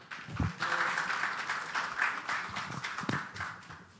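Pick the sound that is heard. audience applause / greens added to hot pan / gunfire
audience applause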